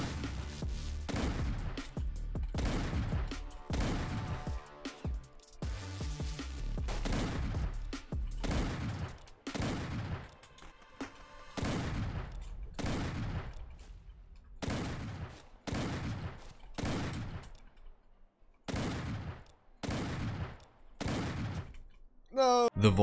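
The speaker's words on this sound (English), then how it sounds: "The Volcanic Pistol." Rapid gunfire from a Volcanic Pistol in the Roblox-style Wild West shooter game, with many sharp shots in quick bursts and short pauses between them, loud and close, continuing through the whole stretch.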